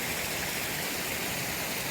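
Michelle Creek flows along the North Umpqua Trail as a steady, even rush of water, continuous and fairly close, with no voices over it.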